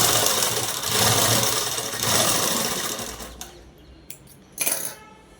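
Sewing machine stitching a long step-design frock, a steady loud mechanical whir running for about three seconds, then stopping and leaving short clicks and a brief clatter at the end.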